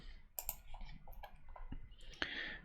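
A few sharp mouse clicks and light keyboard taps at a computer while confirming a testnet transaction in a web frontend, close and quiet with short gaps between them and no voices.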